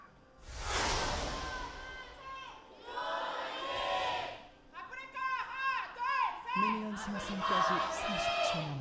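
Afreeca Freecs fans in an esports arena during a League of Columbus LCK match, a crowd chanting and cheering in rising, rhythmic waves, with a caster talking over the noise.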